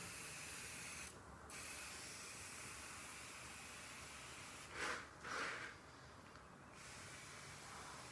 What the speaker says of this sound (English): So now I'm going to use my foaming glass cleaner, go all over the sides